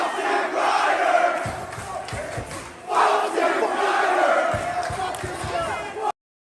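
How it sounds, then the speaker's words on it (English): A GCW deathmatch wrestling crowd boos and chants at Matt Cardona, a loud roaring mass of voices with rhythmic chanting swells and thumping, dipping briefly before surging again, then cutting off abruptly. "the GCW fans showered Cardona with boos and derogatory chants"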